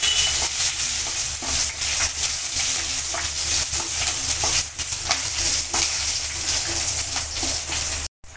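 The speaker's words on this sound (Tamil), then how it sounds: "1/2 ஸ்பூன் சீரகம், 2 காஞ்ச மிளகாய் லைட்டாக ஃப்ரை பண்ணிக்கலாம்." Cumin seeds and dried red chillies fry in hot oil for an instant sambar: a loud, continuous close-up sizzle with stirring clatter throughout, stopping abruptly near the end.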